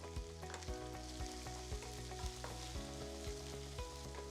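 Green chilies and curry leaves fry in coconut oil with a steady, moderate sizzle, broken by repeated stirring scrapes and soft clinks at an even rhythm. No one speaks.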